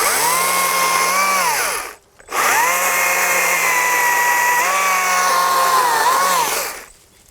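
A Wild Badger 40-volt cordless chainsaw revs up to speed twice, each time a loud, close, high-pitched motor whine that holds steady for several seconds, with a short silent gap between runs and a fade at the end.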